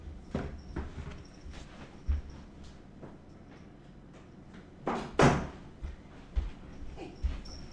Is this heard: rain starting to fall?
no